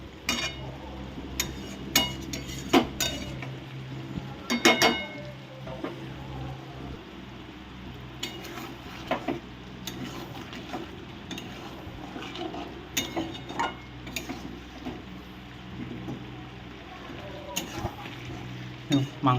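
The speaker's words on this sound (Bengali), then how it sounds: "মাংসটা আমি মোটামুটি 40-45 মিনিট ধরে মাংসটাকে কষিয়ে নিচ্ছি" Mutton sizzles while being stir-fried in a pan for kosha over a long stretch, with a steady frying hiss under frequent spoon scrapes and clinks against the metal.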